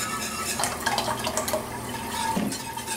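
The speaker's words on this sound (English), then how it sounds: "we're going to keep whisking so there's no lumps" A whisk stirs cream into a roux for a thick, rich béchamel in a pot, giving a continuous close wet swishing and scraping with occasional light metallic taps.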